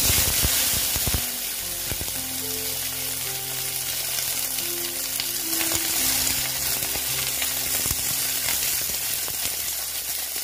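Okra pieces sizzling steadily in hot oil in a pan with nigella seeds, a continuous close frying hiss with occasional stirring clinks, no voices.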